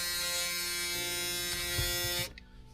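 Brand-new, fully charged electric razor running close by with a steady, bright buzzing hum that holds for about two seconds and then cuts off abruptly.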